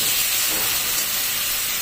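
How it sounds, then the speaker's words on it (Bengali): Ginger frying in a pan for chicken kosha, a dense continuous hiss of hot oil, close and steady with no speech. "তো আদাটা প্রথমে কিছুক্ষণ ভেজে নিই।"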